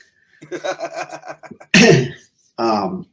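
Someone makes a few breathy voiced sounds, then lets out one sharp, loud sneeze, followed by a short spoken word.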